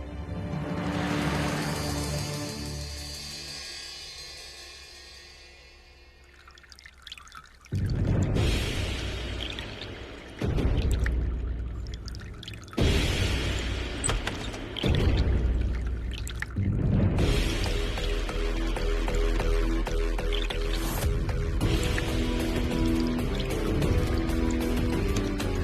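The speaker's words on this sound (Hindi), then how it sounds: "लेकिन ये सोलर पाइप लीक कैसे होने लग गई?" Hot water leaks from a solar heater pipe, trickling and dripping quietly at first before breaking into louder, uneven bursts of pouring and splashing that continue to the end.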